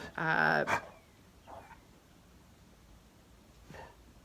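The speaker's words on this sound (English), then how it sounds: "pardon my dog, I guess she has something in her throat too." A pet dog gives a short burst of barking up close, then quieter whimpering yelps follow at intervals in an otherwise quiet indoor room.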